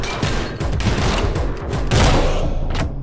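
Rapid video game gunfire from the first-person action game Anger Foot, a dense loud burst of overlapping shots and thuds running through the whole moment with a heavier blast near the end.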